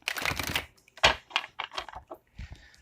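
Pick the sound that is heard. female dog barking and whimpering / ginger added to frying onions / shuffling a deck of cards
shuffling a deck of cards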